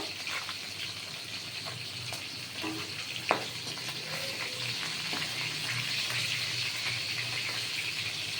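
Parshe fish pieces frying in oil in a pan, giving a steady soft sizzle with a few scattered pops and clicks, no voices.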